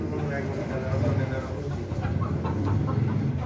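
Chickens at a shop in a poultry market cluck and murmur continuously under people talking, with a busy, muffled background din.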